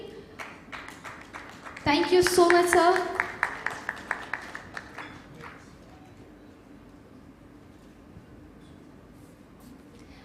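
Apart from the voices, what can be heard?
applause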